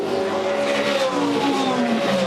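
Supercars racing at the Tasmania 400 in 2014 on the long run down to the hairpin: loud, close engine whine with shifting pitch as several cars drone past together.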